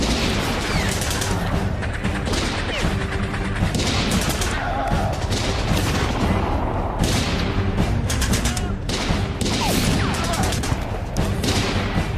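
Dense, continuous gunfire in a battle shootout from an action film, with overlapping rapid bursts and heavy booms, loud and sustained throughout and with no clear pauses.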